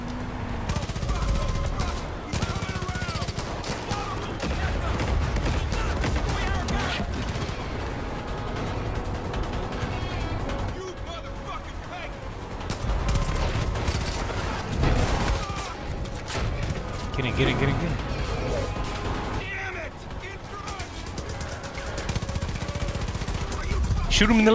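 Sustained close gunfire from Far Cry 5 gameplay, with dense volleys and rapid automatic bursts over a steady rumble. They run almost unbroken, and a voice speaks over them.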